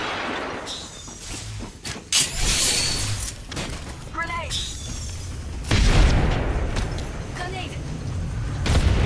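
Grenade blasts in the battle royale game Apex Legends: two sharp booming detonations a few seconds apart over a busy layer of game effects, with a voice talking briefly alongside.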